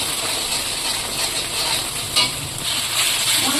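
Spice paste with red chili powder and Kashmiri chili powder being stir-fried for a vegetarian biryani, giving a steady, close sizzle with soft scraping and stirring scratches throughout and no voices.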